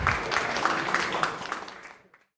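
An audience at the Startup St. Bernard pitch event claps for the judges, with steady, moderately loud applause that thins out and stops near the end.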